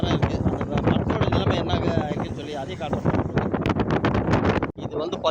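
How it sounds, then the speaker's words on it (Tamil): Strong open-air wind blows through swaying plants and a neem tree, buffeting loudly and continuously against the microphone while a person talks throughout. "இந்த ஓப்பன் காற்றுல வந்து எவ்வளோ செடிங்க என்ன மாதிரி எப்படி ஆடுது பாருங்கள்"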